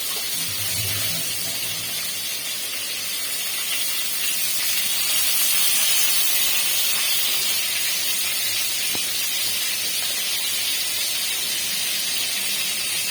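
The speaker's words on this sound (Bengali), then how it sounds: "তার আগে দেবো তেজপাতা আর জিরে" Bay leaves and cumin seeds sizzle in hot oil for a Bengali rohu fish curry, a steady, broad, bright hiss that holds evenly throughout, close and continuous with no talking.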